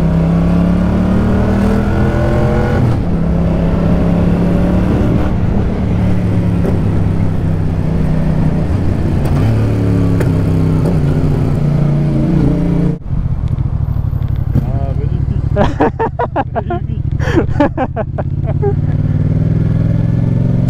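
A Yamaha MT-07 motorcycle revs up loudly and close, its engine pitch climbing through several rising pulls, then dropping to a rough idle with sharp blips of the throttle, with voices talking over it.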